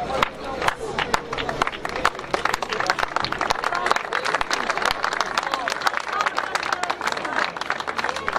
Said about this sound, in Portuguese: E agora sim, uma grande salva de palmas para essa extensa.